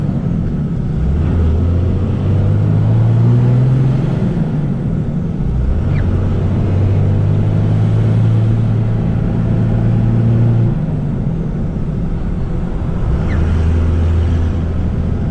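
A 2001 Dodge Ram 2500 with a Cummins engine and six-speed manual gearbox drives along, its loud, steady diesel drone filling the cab and dropping in pitch at several gear changes, with no talking.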